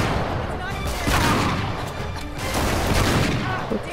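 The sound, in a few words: grenade explosion and gunfire in the video game Uncharted 3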